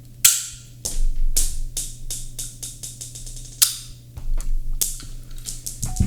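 A childhood toy cap pistol fires a rapid series of loud, sharp bangs, about a dozen close shots in uneven bursts over a steady low hum. No speech.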